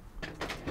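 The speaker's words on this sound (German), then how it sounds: "Die Schublade für Besteck." A cutlery drawer in the kitchen of a 2021 Dethleffs T6717 EB motorhome slides open with a short mechanical rolling and clicking of its runners, quiet and close, with no talking.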